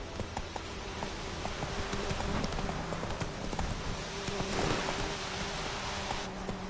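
Roach the horse gallops in The Witcher 3, with steady, rapid hoofbeats close up over a continuous outdoor ambience. No one speaks.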